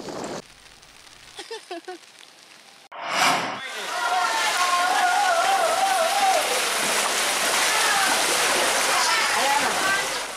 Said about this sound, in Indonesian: Hujan disertai angin kencang masih melanda wilayah Aceh Besar dan kota Banda Aceh.